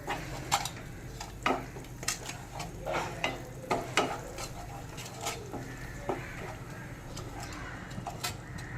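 A spice mix of ground coriander, ginger-green chilli paste and salt stirred in oil for a bele fish curry, soft sizzling with repeated spoon scrapes and taps, while pigeons coo faintly in the background.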